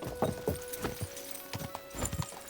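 Horse hooves clip-clop in the video game Kingdom Come: Deliverance II, a steady walking rhythm of hollow knocks close by, repeating about every quarter to half second over a faint ambient hum.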